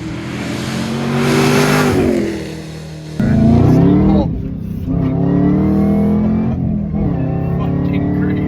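A tuned 900 hp supercharged V8 in a manual 2013 Chevy Camaro ZL1 revs hard several times, loud and close, each rise climbing to a high roar before dropping back, with a voice speaking over part of it.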